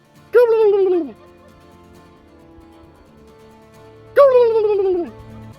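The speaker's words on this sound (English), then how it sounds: "there was a field full of mostly tom turkeys from what I could tell." Two loud, descending calls from wild tom turkeys in a field, one near the start and another a few seconds later, with quiet background in between.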